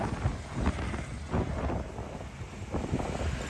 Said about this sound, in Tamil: காற்று எவ்வளோ வேகமாக இங்கே அடிச்சுக்கிட்டு இருக்கு